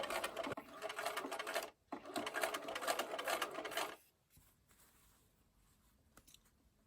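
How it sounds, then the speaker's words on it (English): A home sewing machine stitches a star-patterned sampler block, with a loud buzzing run forward, a brief pause, another run backward, then stops, leaving a quiet, faint tail. "So a few stitches forward, a few stitches backwards, and then I'll come forward."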